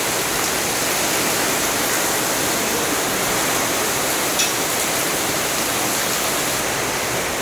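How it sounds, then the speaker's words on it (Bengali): Heavy rain pours down steadily in Rajibpur, Kurigram, a dense, even roar of water that fills the whole stretch without a break, loud and close, with no voices over it. "প্রচণ্ড বৃষ্টি, প্রচণ্ড শব্দ।"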